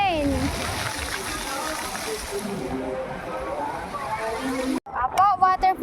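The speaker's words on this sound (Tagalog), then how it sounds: "Fountain." Water splashes and sloshes steadily in a fountain waterfall, a dense continuous wash heard close, with a child's and adults' voices speaking over it near the end.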